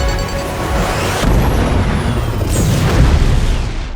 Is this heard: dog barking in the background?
no